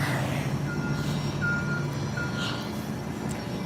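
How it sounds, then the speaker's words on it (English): Early-morning bus station in San Antonio, where a truck's reversing alarm gives a few evenly spaced beeps at moderate distance over a steady low hum of traffic and engine idle. "this is our bus station type of thing"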